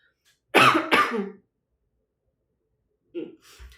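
Two harsh coughs in quick succession, close and loud, followed after a pause by a softer throat sound.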